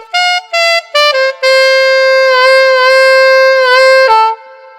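An alto saxophone plays a riff alone, with a few short detached notes, then a long sustained phrase with bent, sliding pitches before it drops and stops.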